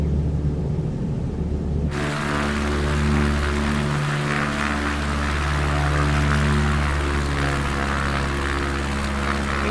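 A propeller airplane lands in Microsoft Flight Simulator 2024 at Torrey Pines Airport, its engine droning steadily and loudly throughout with a harmonic hum and low rumble, and no talking.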